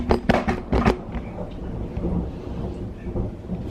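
Thunder rolls during a rainstorm, opening with several loud, sharp cracks and then settling into a long, steady rumble under the hiss of falling rain.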